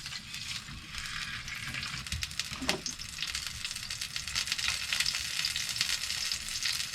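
Tomato and mushrooms fry for breakfast in a pan aboard a narrowboat, giving a steady, close crackling sizzle with scattered pops and one brief scrape of stirring, and no voices.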